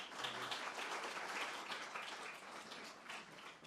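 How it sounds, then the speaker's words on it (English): An audience at a landscape architecture talk applauds, a fairly faint, even stretch of clapping heard from a distance that holds steady for a few seconds. "Let's give him a round of applause for joining us today."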